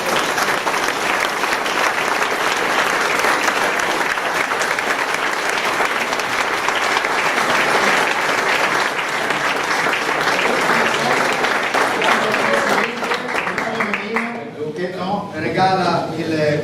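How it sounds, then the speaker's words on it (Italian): Sustained, loud applause from a large audience at an Alpine rescue gathering, a dense continuous wash of many hands clapping that thins out and fades near the end. "Facciamogli un grande applauso."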